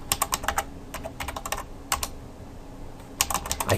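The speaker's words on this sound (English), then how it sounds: "I can't type and talk at the same time." Quick bursts of typing on a computer keyboard, close and clear, with short pauses between runs of keystrokes; no one speaks.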